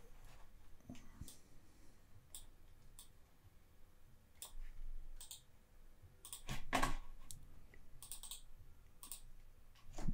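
Computer keyboard typing while entering a command in a Linux terminal: quiet, irregular clusters of sharp key clicks with brief pauses, close-up, no talking.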